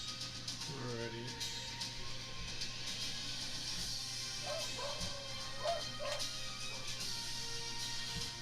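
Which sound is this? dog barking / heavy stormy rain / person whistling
dog barking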